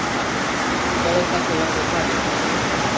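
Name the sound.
heavy rain falling on a tin roof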